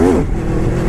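The V4 engine of an Aprilia RSV4R motorcycle in race mode gives a short, loud revving burst up close, with a rising then settling engine tone.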